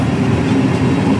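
A passenger train in Morocco rumbles along the rails, producing a steady, loud, close wheel-and-carriage roar with no pauses or voices.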